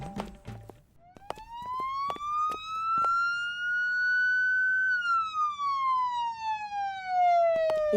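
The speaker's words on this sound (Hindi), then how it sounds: "ये सायरन की आवाज कहाँ से आ रही है?" A single wailing siren climbs slowly in pitch, holds, then gradually falls, loud and steady with a few faint clicks and knocks around it.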